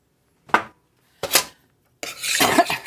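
A thickening sauce being stirred in a pot, heard as three separate scraping strokes of a utensil against the pot, the last one longer and rougher, close by and with no one talking.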